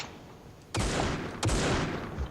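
Gunfire in the mobile shooter Critical Ops: two loud bursts of sustained shooting, the first starting near the middle and the second following about a second later, each a dense wash of shots with no talk over it.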